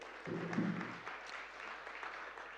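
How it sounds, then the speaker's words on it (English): Applause from a church forum audience greeting a reverend, faint, thin clapping at a distance, following a brief low tone near the start. "How about a round of applause for Judith?"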